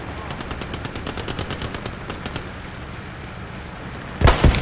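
Rapid bursts of MG42 machine gun fire in Hell Let Loose, with fast rattling shots in several strings, followed by a loud nearby blast near the end.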